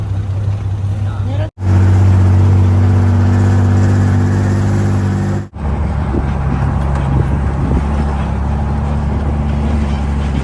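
A car drives over a rough off-road mountain track, its engine droning steadily throughout with a loud interior rumble, briefly cut twice, as people talk over it.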